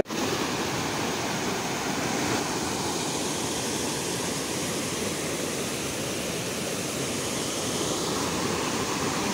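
Loud rushing water pours steadily at close range, a dense, unbroken roar like a weir or strong outflow that holds constant from start to finish with no voices.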